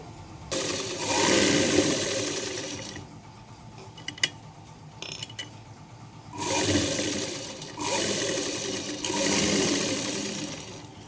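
Sewing machine stitching a blouse lining, close whirring runs of a few seconds each, separated by quiet gaps with small clicks.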